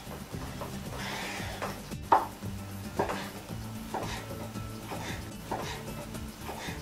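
A knife chops sausage into half-rings on a board, producing a run of distinct, fairly quiet knocks at an uneven rhythm, with faint kitchen clatter between the cuts.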